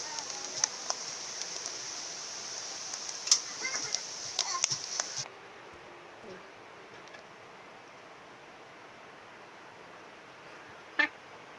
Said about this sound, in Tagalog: Ang lakas na ng ulan dito sa amin.